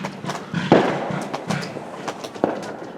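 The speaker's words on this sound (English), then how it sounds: "So we have a fireworks display" Fireworks going off near a railway line, a series of distant pops and muffled thuds at irregular intervals over a low background rumble, with no voices.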